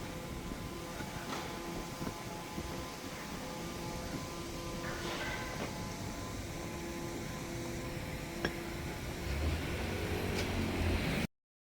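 A train ride out of Kyoto station carries a steady, moderate rumble of rolling rail and cabin hum, with faint tonal whines, a few soft clicks and a slight swell in low rumble near the end.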